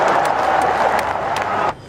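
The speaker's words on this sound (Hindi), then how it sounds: "ठोको ताली।" Audience at a political rally applauding a speech after joining the Indian National Congress, dense steady clapping and crowd noise for under two seconds before cutting off abruptly.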